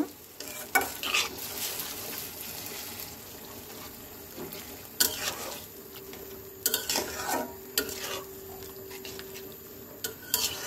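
Water goes into a pan of sizzling tengra fish curry, the steady fry hiss broken by scattered clinks and brief splashy bursts, fairly quiet and close, with no one talking.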